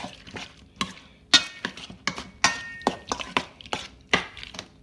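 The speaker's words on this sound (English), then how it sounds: "Get that stirred around pretty good." Shrimp being stirred with spray butter in a bowl, giving a run of sharp, irregular scraping and clinking strokes of utensil against the bowl, close and fairly loud with no voices.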